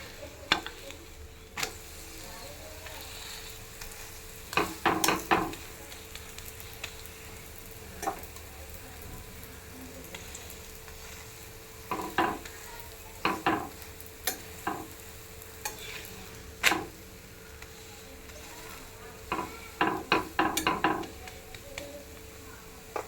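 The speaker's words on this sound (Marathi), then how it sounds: "परत वरनं तेल सोडायचं बघा हे छान शेकलेत ना" Fenugreek paratha roasting in oil on a pan, a soft low sizzle running throughout, broken by clusters of sharp scraping and spatula clinks every few seconds.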